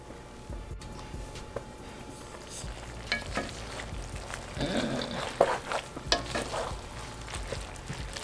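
Bacon and cabbage fry together in a pan with a steady, close sizzle, broken by occasional clinks and stirring scrapes that grow busier toward the middle.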